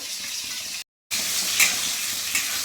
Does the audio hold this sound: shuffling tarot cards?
no